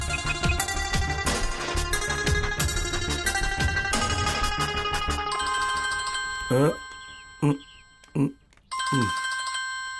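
A phone ringtone plays a repeating melodic pattern, loud and close, ending with several separate rings with short gaps between them.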